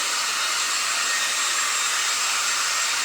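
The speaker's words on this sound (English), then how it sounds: "Get rid of the dryer." Continuous broadband whoosh of a hair dryer blowing at a steady, loud level, used while crafting decorative flowers, with no voices.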